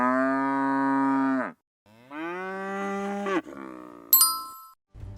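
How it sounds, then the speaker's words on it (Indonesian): A cow lows in two long, loud, sustained moos separated by a short pause, followed by a bright bell-like ding near the end. "Sapi suka moo kalau lapar atau manggil temannya."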